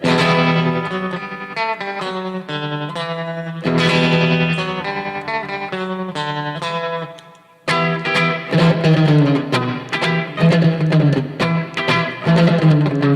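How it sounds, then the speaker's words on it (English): Distorted electric guitar plays a bright, sustained riff combining rhythm and lead parts, with a fuller chordal section after a short dip, loud and upfront. "Even though it's rhythm guitar and lead guitar, I'll just try to combine them."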